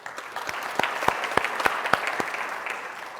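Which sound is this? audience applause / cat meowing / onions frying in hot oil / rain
audience applause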